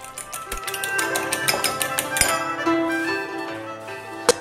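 A fork beating eggs in a bowl while cooking chorizo rice, giving quick bright clinks and taps against the bowl in an uneven rhythm, close and fairly loud, with faint talk in the background.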